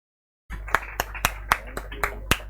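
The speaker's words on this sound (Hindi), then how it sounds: "तालियां बजाते रहिए, इसमें कोई कंजूसी नहीं।" Scattered, sharp individual hand claps ring out from an audience at a book launch ceremony, about eight distinct claps at an uneven rhythm after a short silence, close and fairly loud over a low room hum.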